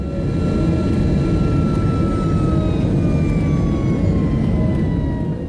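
Air Koryo Tupolev 154 jet airliner with its engines running loudly and steadily, a dense rumbling roar carrying a high whine that slowly shifts in pitch.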